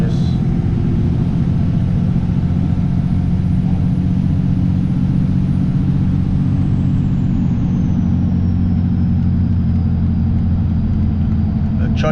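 A Cummins 24V diesel pickup truck engine pulling in sixth gear under gentle throttle, a loud continuous low rumble heard from inside the cab, with the drone falling slightly in pitch partway through.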